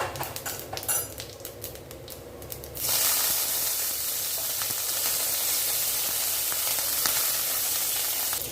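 Mustard and fennel seeds tempering in hot oil for a potato masala: light crackling at first, then a loud, steady sizzling hiss that fills the rest, close and continuous with no talk.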